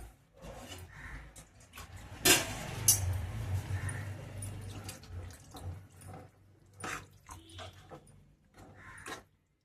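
Water poured into a thick curry in a pan, a brief splashing burst followed by bubbling and gurgling, with faint kitchen clatter afterward.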